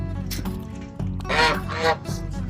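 Geese honking at a farm enclosure with turkeys nearby, a couple of loud nasal calls bursting out close by over a steady low background hum.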